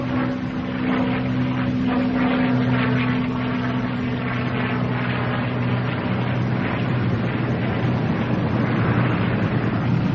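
A P-51 Mustang comes in to land, its propeller engine a loud, steady droning roar with a low hum underneath, heard close and continuous throughout with no talking.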